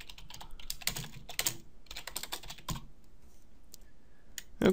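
Someone typing on a computer keyboard, with bursts of quick key clicks separated by short pauses and a sharper keystroke near the end, close and fairly quiet with no talking.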